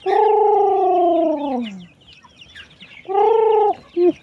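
Chickens at a poultry yard with several breeds, giving loud, close, drawn-out calls: one long call, a pause, then a shorter call and a quick final note.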